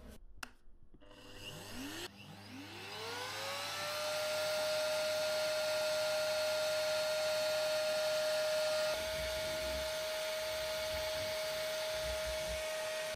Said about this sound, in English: we're going to be vacuuming the car using the vacuum.